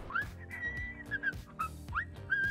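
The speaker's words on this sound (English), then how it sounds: "Stop whistling." Repeated rising and sustained whistle notes in a farming video game, several short whistles spread over a couple of seconds, fairly clear over a low rumbling engine-like background with no speech.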